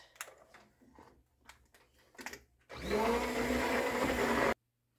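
A blender purées roasted butternut squash soup, starting abruptly after a few soft handling knocks and clatters, then a loud, steady whirring roar for about two seconds before it cuts off sharply.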